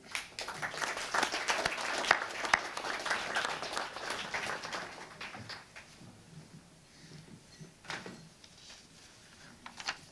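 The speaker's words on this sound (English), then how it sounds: "A big applause to our award winners." Applause for award winners at a software engineering awards ceremony, a faint, scattered patter of clapping from a distant audience that thins out toward the end.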